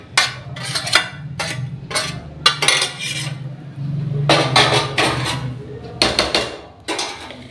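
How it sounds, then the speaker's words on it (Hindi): Repeated hard pounding strikes as plant gum is coarsely crushed in a mortar, irregular bursts of sharp thuds and grinding scrapes, close and loud. "इसको खल्लड़ में ऐसे दरबरा कर लेना है आपको"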